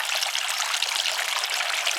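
Steady water trickling and splashing in a summer garden among blooming rudbeckias, a continuous bright burble with no break, alone and at moderate level.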